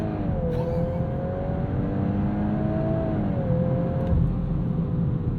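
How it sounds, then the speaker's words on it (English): A 2022 Volkswagen Golf R pulls away under launch control, its engine droning loud and close as pitch climbs through a gear, briefly dips at a shift, then rises again with continuous road roar beneath. "Left foot on the brake, right foot hard down on the gas. Launch control program active."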